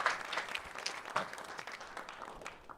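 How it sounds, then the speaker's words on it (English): Applause from an audience at a hackathon gathering on a Saturday morning, a steady wash of many hands clapping at moderate loudness that thins out toward the end, with no talk over it. "Can we give Amanda a round of applause?"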